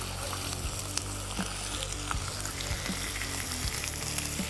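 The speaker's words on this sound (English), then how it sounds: "Oh, listen to that sizzle" Streaky bacon sizzles steadily in a hot pan while cooking for smash burgers, a dense crackling hiss with scattered pops, close and uninterrupted, with no voices.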